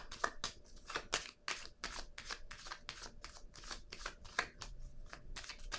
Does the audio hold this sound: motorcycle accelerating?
no